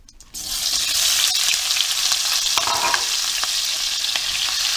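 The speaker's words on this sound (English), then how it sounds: "to this oil in the pan, I'm going to add the peppers and onions." Peppers and onions hit hot oil in a pan and break into a loud, steady sizzle that continues evenly with small crackles, with no talking.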